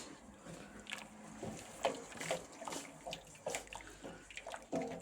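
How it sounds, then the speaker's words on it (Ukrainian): Vinegar poured into a pot of hot, just-boiled pickle marinade for canning cucumbers gives a steady liquid splash and trickle, with faint clinks and stirring-like bursts, close and moderately quiet, with no talking. "ми виключаємо і заливаємо оцет"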